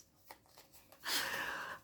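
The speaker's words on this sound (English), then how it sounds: "You saw me shuffle these." A deck of playing cards is riffled in one quick burst near the mic during a book reading challenge game, a loud crisp flurry lasting under a second after faint handling taps.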